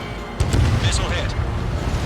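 A deep rumbling missile-hit explosion in the Ace Combat 7 flight video game, a sudden low boom that rolls on and lingers under a voice.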